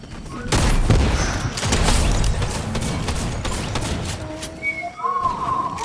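Rapid bursts of sniper gunfire in a video game, loud and close, with dense booming shots through the first half, then fading into lighter mechanical game effects and tones.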